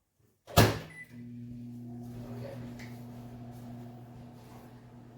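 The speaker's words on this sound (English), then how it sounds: "I'm going to put it in the microwave to get it warm" A microwave oven heating a cup of water starts with a sharp clunk, then settles into a steady, even electrical hum with a low drone that runs on without a break.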